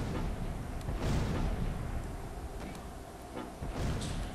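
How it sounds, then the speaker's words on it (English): Mortar bombs bursting in a World War II battle game near St. Marie du Mont, a run of dull, rumbling booms and crumping blasts that roll into one another amid a continuous noisy battlefield din. "Anytime I see some troops running, I drop the bombs and I get some good kills."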